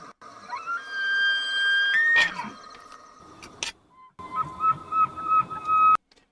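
A recorded elk call, male elk giving high, thin nasal whistles: sustained tones with a few sharp bursts and pauses between, fairly loud and clear.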